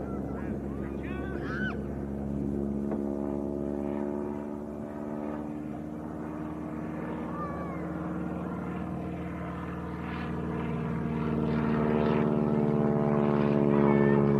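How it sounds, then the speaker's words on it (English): A Tiger Moth propeller biplane drones overhead at Leeds East Airport during wing walking, a steady, loud engine hum that swells toward the end, with no voices. "But what type of plane's this? Is it a tiger moth?"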